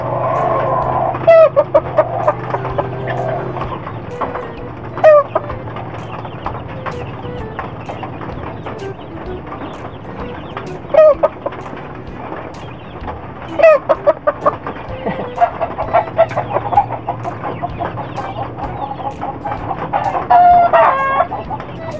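Chickens on a farm where Talisay gamefowl are kept cluck steadily, and roosters crow several times, near and loud, with occasional faint talk and background noise.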